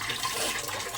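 Water pours steadily into a pot in a kitchen, a continuous splashing rush heard up close and fairly loud, with no talking.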